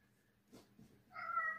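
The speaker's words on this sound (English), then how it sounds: "My cat just keeps walking around meowing" A single clear cat meow rises near the end of the clip, close and moderately loud, after a few faint soft movement sounds in an otherwise quiet room.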